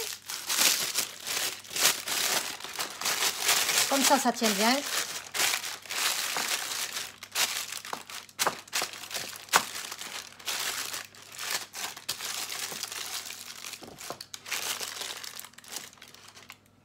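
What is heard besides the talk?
crumpling baking paper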